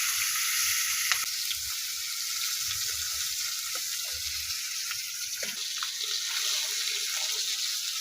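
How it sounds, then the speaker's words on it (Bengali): Fish frying in a wok of hot oil tempered with cumin seeds, coated in salt and turmeric, gives a steady, close hiss and sizzle with a few faint pops and clatters. No one speaks. "মাছটা ভাজা ভাজা করবো"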